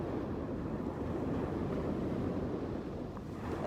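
Steady ocean surf washes in continuously, a broad rolling roar of breaking waves with some wind buffeting the microphone, no voices.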